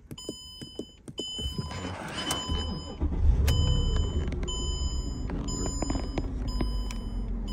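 Mercedes-Benz CLS 550 AMG bought at a salvage auction cranks over and catches, then settles into a steady, fairly loud idle with some electronic chimes from the car; no one speaks.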